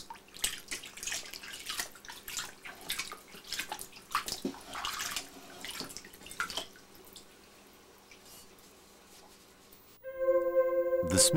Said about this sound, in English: All surface oil is removed using an ash water solution, and the blade is then dried thoroughly.